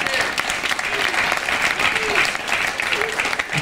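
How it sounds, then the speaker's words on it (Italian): Sustained applause from a crowd, dense and steady clapping close by, lasting several seconds with a faint voice underneath. "gli facciamo un applauso"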